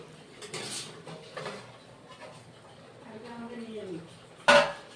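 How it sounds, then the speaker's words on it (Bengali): Pots and utensils knocking at a home stove as paneer curry is put on to cook, scattered clinks and scrapes under a voice, ending with one sharp metallic clang. "পনির তরকারি বসাচ্ছি"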